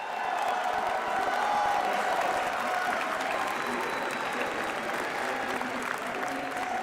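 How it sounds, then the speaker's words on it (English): A crowd at the Pokémon Video Game World Championships gives a round of steady applause with some cheering, dense clapping holding at moderate volume throughout. "Let's get a round of applause."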